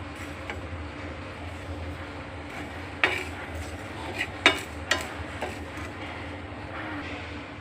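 Coriander, fennel and fenugreek seeds being dry-roasted and stirred in a pan for chili pickle, a soft continuous rustle with a few sharp metallic scrapes and clinks of a spoon against the pan.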